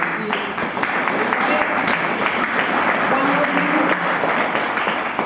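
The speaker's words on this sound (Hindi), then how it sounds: "मैं चाहूंगा एक बार आप उनके लिए जोरदार ताली दो" An audience gives loud, steady applause at a motivational talk, a continuous crowd of clapping hands held at an even level throughout with voices mixed in.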